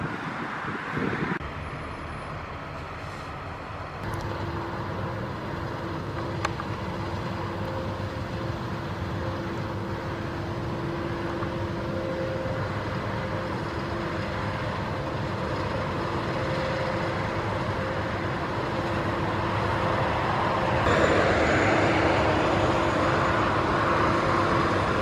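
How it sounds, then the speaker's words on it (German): A combine harvester drones steadily for a long stretch during the August grain harvest, a low engine rumble with a sustained mechanical whine, growing slightly louder toward the end. "ich liebe das Geräusch von Mähdreschern."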